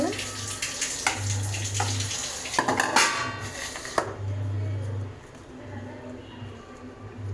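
Produce is washed under a running tap, with steady water flow and intermittent splashing and clatter. A loud hum comes and goes underneath.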